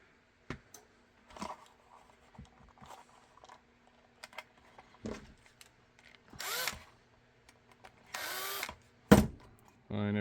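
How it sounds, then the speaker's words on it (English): A power drill drives screws into holster blocking for Safariland and combat loops in short, separate bursts of whirring, with clicks and handling knocks of the workpiece between runs. "I just tighten these to the point where the screw sticks out the back end"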